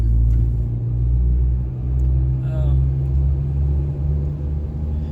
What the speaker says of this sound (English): Well, if the camera was turned around, you'd see I'm actually driving.